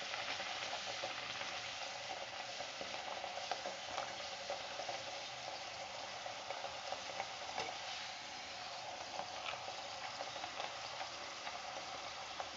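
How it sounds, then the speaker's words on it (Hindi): Besan dough puris deep-fry in hot oil on a medium flame, giving a steady, close, even sizzle with a fine crackle throughout and no voices. "पूरियाँ मीडियम आंच पर फ्राई कर लेना ताकि अंदर तक अच्छे से पक जाए"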